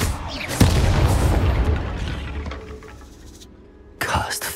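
Confringo and Bombarda spells explode in Hogwarts Legacy: a sharp booming blast with glassy crackle fades into rumbling debris, then a second loud burst hits near the end, with speech in between.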